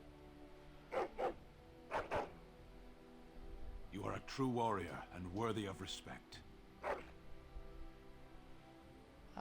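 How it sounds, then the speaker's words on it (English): Dogs in the video game Dragon Age Origins trade several short barks in brief bursts, heard near and loud, with a spoken line from a game character in the middle. "They just had a barking contest."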